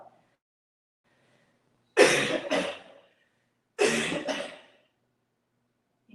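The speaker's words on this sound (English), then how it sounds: "Inhale, cough the breath out." Two forceful coughs push the breath out during a hatha yoga class, each a short double burst, close and clear, separated by silence.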